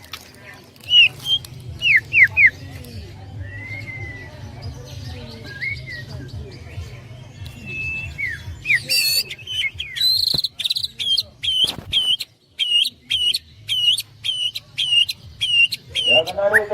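Canary singing in bright rapid trills and repeated chirping phrases, close and loud, with other birdsong and faint low background noise beneath.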